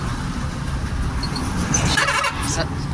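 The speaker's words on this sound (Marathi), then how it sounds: "24 तास गाड्या चालू असतात तिथं." Traffic on a highway toward Mumbai rumbles by in the background while a voice talks over it, with passing engine noise and a few faint high chirps.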